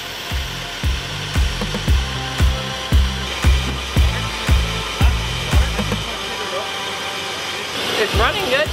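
A truck engine runs with a rhythmic, pulsing chug of repeated bursts, overlaid by a steady airy vacuum hiss from a missing filter; the pulsing fades after several seconds, leaving the hiss and some clatter.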